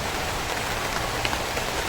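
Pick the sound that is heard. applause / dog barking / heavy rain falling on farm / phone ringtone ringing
heavy rain falling on farm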